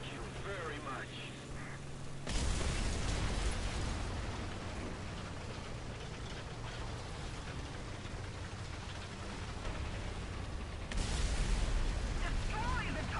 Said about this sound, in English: Even if you can't pen, sometimes it's best to still send those shots out, because you can still scare them into backing off.